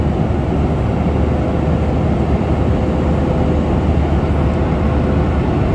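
Steady loud cabin roar of a passenger airplane flying low over the ground on a flight to Crete, heard from inside, a constant broadband rumble with no talk.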